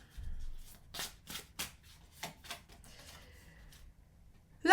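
Tarot cards are shuffled for a reading in several quick, soft riffling bursts near the mic, with pauses between them and a louder thump at the end.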